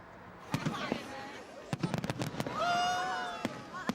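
A fireworks display at Alexandra Palace in London before a crowd of more than 60,000 people, with sharp bursts and pops at varying distances and whistling rockets rising, over a broadcast commentator's voice.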